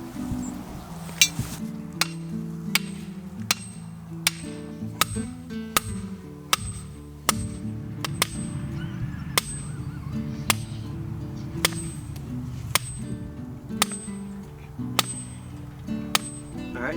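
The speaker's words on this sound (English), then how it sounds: "I'm going to hammer down this T-post right beside the hydrant." A steel T-post is driven into the ground beside a greenhouse hydrant, giving about a dozen sharp metallic strikes in a steady, evenly spaced rhythm over a low background rumble.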